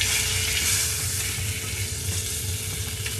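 Salmon fillet sizzles loudly in a hot frying pan as it is flipped, a dense steady crackle and spit of oil close up, with no talk.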